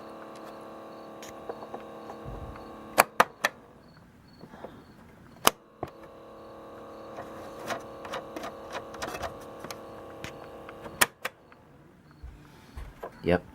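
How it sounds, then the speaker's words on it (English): A National Panasonic RX-5010F cassette player's motor runs free with no load, giving a steady thin whirring hum at low level, broken by sharp mechanical clicks and brief handling noises. "sounds like a motor with no load whatsoever on it"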